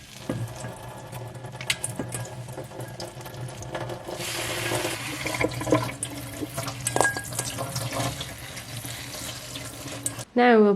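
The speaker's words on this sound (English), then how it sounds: "then give the flowers a quick rinse" Red clover flowers being rinsed under a running kitchen tap, a steady splashing stream of water into a sink with occasional clinks and handling sounds, ending with a brief louder noise.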